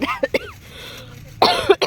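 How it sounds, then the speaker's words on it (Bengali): Several sharp, close coughs come in short bursts, then a pause, followed by another cluster of harsher coughs. "প্রচণ্ড কাশি হয়েছে"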